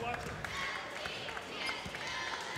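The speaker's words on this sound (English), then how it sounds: "Lamar Barr is just going to dribble this one out" A basketball dribbled repeatedly on a hardwood gym floor near the end of a Mohawk vs Sault men's college game, light regular bounces under steady crowd noise, cheerleaders and a commentator's voice.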